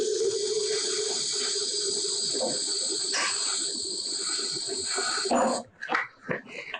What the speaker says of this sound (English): we are going to put some WD-40 in there